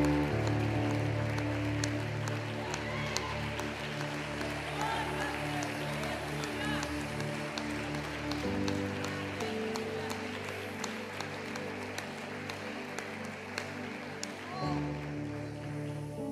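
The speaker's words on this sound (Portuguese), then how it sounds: "aplauda ao Senhor" Church congregation clapping in praise during a Portuguese-language worship service, a continuous crowd of hands under music and voices in a large hall, fairly soft and sustained.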